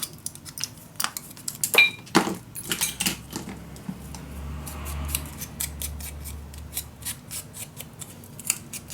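Scissors snip paper for a scrapbook in quick, irregular close-up cuts, with sharp metallic clicks and blade rasps repeating over several seconds.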